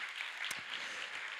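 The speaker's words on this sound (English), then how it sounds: "One more round of applause for Marie's, please." A live-streamed Bio Summit audience applauds for Marie with steady, fairly faint clapping from a room of people, and one brief sharp knock partway through.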